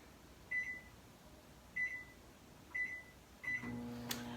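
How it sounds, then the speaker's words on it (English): A microwave oven melting butter and cocoa gives four short beeps spaced about a second apart from its keypad, then its hum starts up and runs steadily. "that's going to go into my microwave"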